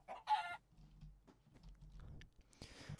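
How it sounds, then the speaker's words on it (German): Chickens in the video game Minecraft, a few short, quiet clucks and squawks spaced unevenly over a faint background. "Alles voller Hühnchen."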